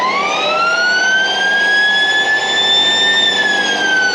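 A loud siren on an armoured military vehicle, a continuous rising wail that climbs and holds its pitch close by, with no talk over it.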